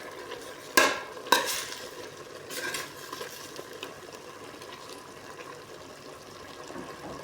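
Sauteed squid with carrot and chilli sizzles softly in a pan while a utensil stirs and scrapes, with two sharp clacks early and a quieter steady fry after.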